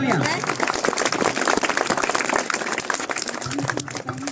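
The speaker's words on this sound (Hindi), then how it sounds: "सर के लिए जोरदार तालियां" Audience applause for a school director called to the stage at a Republic Day function, a dense, steady wash of many hands clapping with voices mixed in throughout.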